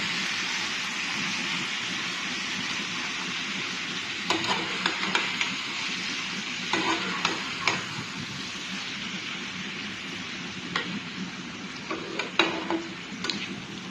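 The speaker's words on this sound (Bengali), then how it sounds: "এবারে কচি শাকটা তুলে দিলাম, যেহেতু মশলাটা হালকা ভাজা হয়ে গেছে" Young taro greens sizzling steadily in a pan of lightly fried spices, a loud continuous hiss with occasional clicking stirs from a spatula, close by.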